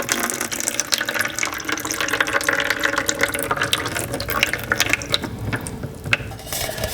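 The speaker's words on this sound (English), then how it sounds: "you've got to remember to drain the fluid" Liquid being drained from a can of succotash stew ingredients, a steady splashing trickle with small metallic clinks, close by and with no talk.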